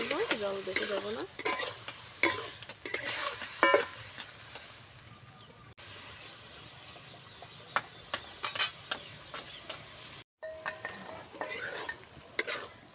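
Fish roe cooking with kochu loti stems in a pan, a spoon scraping and stirring through a steady sizzle, with clinks against the metal and a brief cut near the end.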